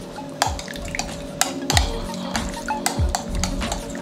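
Cream being stirred and mixed in a pot at home, a rhythmic series of clinks and scrapes of a utensil against the pot, close and moderately loud over a steady low hum.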